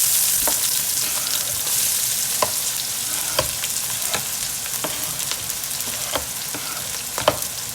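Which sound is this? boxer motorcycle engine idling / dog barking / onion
onion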